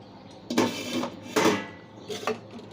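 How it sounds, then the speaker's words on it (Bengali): A metal pot lid on a pot of khichuri clanks and scrapes in three short bursts, close and fairly loud with a brief gap between each, no talk. "এবার ঢাকনাটা খুলে দেখব কেমন হয়েছে দেখুন"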